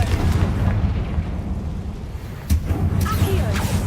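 A Confringo blasting spell goes off as a deep, rumbling explosion, its low roar continuing, dipping briefly, then surging again with a fresh boom partway through, followed by crackling debris-like bursts.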